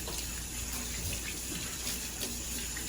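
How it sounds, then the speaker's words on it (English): Raw chicken pieces for Mexican chicken soup rinsed under a running kitchen tap, a steady close stream of water splashing into the sink with no talking. "we're just gonna clean them really good, kind of scrub them against each other"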